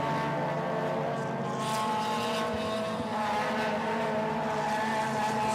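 Race cars at the start of a Malaysia Championship Series race, a dense continuous engine roar from several cars blending together at steady loudness.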